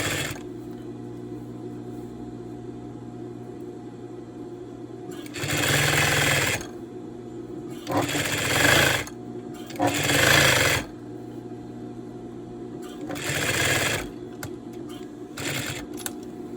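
A sewing machine stitches a zipper into a striped-fabric throw pillow using a zipper foot, running in several loud bursts of a second or two each, separated by quieter pauses with a steady low background hum.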